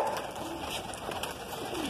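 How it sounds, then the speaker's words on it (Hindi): Pigeons cooing and calling faintly, high-flying birds in Jodhpur, Rajasthan being flown on request, with a steady outdoor background and no talk. "ये देखिए स्पेशल रिक्वेस्ट पे आपको कबूतर उड़ा के दिखा रहे हैं थोड़े"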